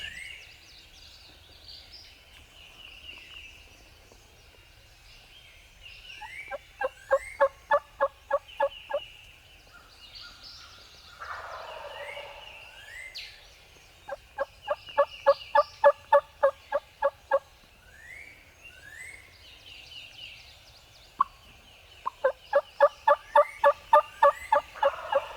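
Wild turkey gobbler in a Virginia swamp in spring, gobbling hard in three loud rattling bursts, each a rapid series of pulses, with quieter bird calls and insects between them.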